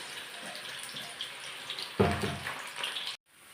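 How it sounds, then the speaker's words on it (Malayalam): Thinly sliced jackfruit frying in boiling oil for chips, a continuous close hiss and bubble that swells into a louder burst partway through, then cuts off abruptly near the end. "എന്നിട്ട് നമുക്ക് എണ്ണ തിളച്ച എണ്ണയിലിട്ടിട്ട് വറുത്ത് കോരിയെടുക്കാം."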